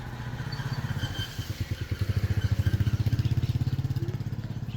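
Motorcycle engine while riding on a road, a steady, close, rhythmic putter with a low pulsing beat that keeps going throughout without any talking over it.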